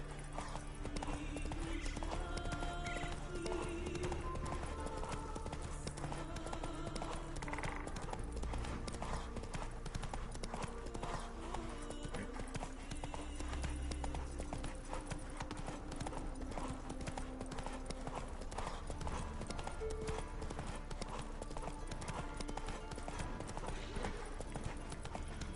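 Horse hooves clip-clop steadily in a video game, a continuous, moderately quiet rhythm of hoof strikes with occasional neighs and game sounds layered underneath.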